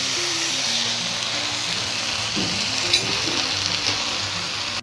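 Pav bread rolls pressed into pav bhaji on a hot pan, a steady close sizzle and frying hiss that runs throughout with a few soft scraping stirs partway.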